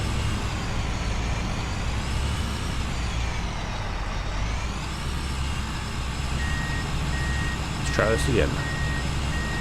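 A truck in Farming Simulator 22 backs up under a trailer, its steady reversing beeps sounding over a constant engine drone, followed by a brief air-brake hiss as a voice speaks.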